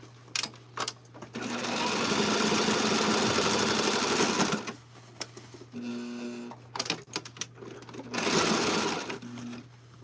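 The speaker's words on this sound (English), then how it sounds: "Carefully serging my pants because I want to make sure I don't cut my fabric." A serger overlocking machine stitching the fabric of a pair of pants, loud close whirring bursts of a few seconds each, separated by brief pauses and stop-start handling noises, with no talking.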